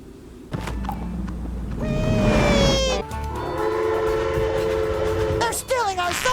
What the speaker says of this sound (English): We got ourselves a train to catch!